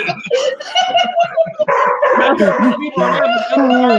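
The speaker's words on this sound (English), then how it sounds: "Even the dogs are barking like going too far." Dogs bark and yip in short bursts amid a lively indoor live-stream hangout, mixing with overlapping chatter and laughter from several people close by.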